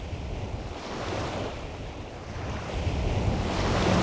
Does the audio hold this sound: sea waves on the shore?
yes